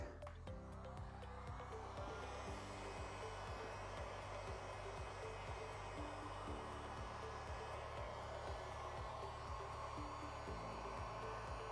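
Hot air blower heating the adhesive on a plastic Cybertruck camera cover, a steady close whirring hum with a constant airy hiss running without a break.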